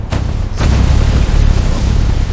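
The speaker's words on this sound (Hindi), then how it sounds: "जोरदार धमाके, धरती का कांपना और चारों ओर तबाही।" A deep, rumbling blast followed by a second, sustained booming roar, loud and heavy with strong low-end rumble and no speech.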